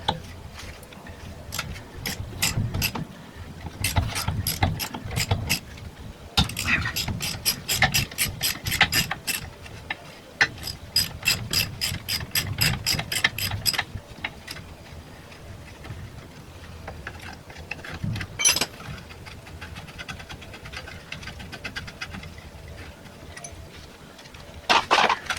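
A ratchet clicks in repeated rapid bursts while stubborn bolts are worked loose during rear subframe removal on a car held in a rollover spit jig. The clicking trains are close and fairly loud, with short pauses and occasional rubbing between them.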